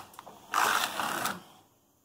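A Superba knitting machine's carriage slides across a bed knitting Norwegian double jacquard, a single close, stiff rattling sweep after a couple of small clicks, then fading out.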